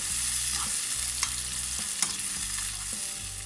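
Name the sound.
tomatoes sautéing in olive oil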